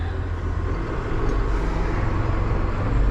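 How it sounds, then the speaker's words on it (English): A car or truck comes along a rural farm road, a steady low engine and tyre rumble that builds louder toward the end as it draws near. "There is a car coming, so we will stop."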